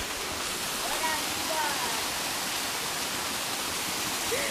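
A waterfall roars in a constant, dense hiss, heard close and steady in a natural outdoor setting.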